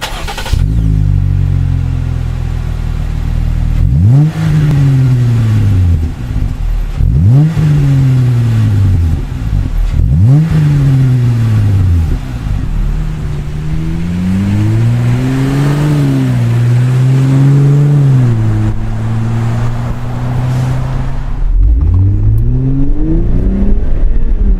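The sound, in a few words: Jeep Wrangler JL V6 with aftermarket exhaust revving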